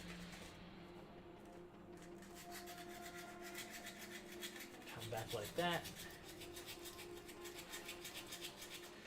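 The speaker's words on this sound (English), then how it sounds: "I'm sanding over the paper, that way things drop onto that" Quick rhythmic rasping strokes of sandpaper rubbing against a small model piece over paper, close up, with a brief spoken remark partway through.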